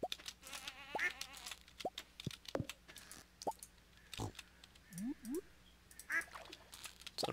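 Chickens on the farm in the video game Stardew Valley cluck and squawk in short, faint bursts, scattered irregularly among soft footsteps and other quiet game sounds.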